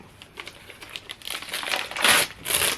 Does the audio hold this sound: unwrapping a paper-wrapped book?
yes